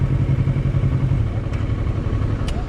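A Honda Transalp motorcycle on a Pyrenees road trip runs with a steady, close, low engine rumble for a few seconds with no talking.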